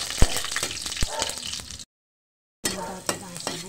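Garlic sautéing in a pan for ginisang pechay with tofu sizzles up close, with a few sharp stirring knocks. The sound cuts out briefly before the frying resumes.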